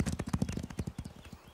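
Cartoon horses gallop with a quick, steady clip-clop of hooves, loud and close at first, then fading slightly toward the end, with no one talking.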